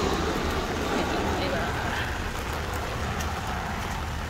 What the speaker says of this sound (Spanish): Pero está lloviendo.